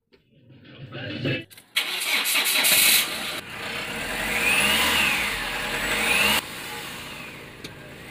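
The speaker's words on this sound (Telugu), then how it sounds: "ఒకసారి ఇంజన్ అయితే ఆన్ చేసి పెట్టమన్నాడు" A car engine is cranked and fires up after sitting unused for about two weeks. It catches loudly, revs briefly, then settles into a steady idle with a faint whine.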